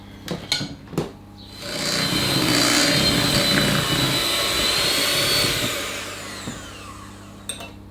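A handheld electric beater whizzes through cherry cake batter, a steady loud whirring that runs for about four seconds, bracketed by a few clattering knocks before and after.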